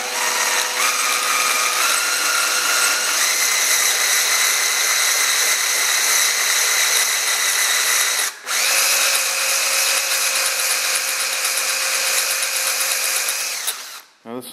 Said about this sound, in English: All right, so I got the drill.